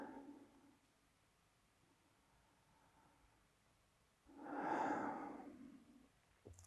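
A single slow breath, drawn and released around the middle of a quiet guided eurythmy movement exercise, close and soft, rising and fading over about two seconds against a low hiss.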